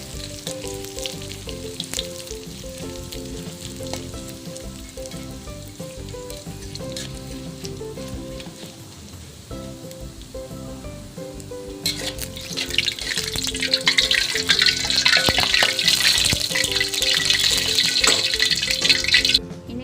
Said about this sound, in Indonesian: di sini saya akan goreng ini ikan asin tapi seperti kerupuk